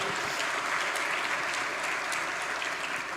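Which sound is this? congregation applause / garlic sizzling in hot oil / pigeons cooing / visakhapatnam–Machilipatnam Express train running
congregation applause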